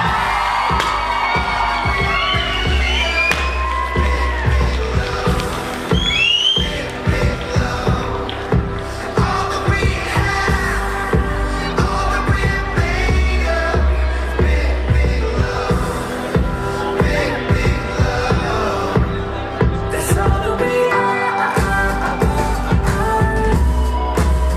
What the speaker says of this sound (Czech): A přivítejte velkým potleskem Simonu Urbánkovou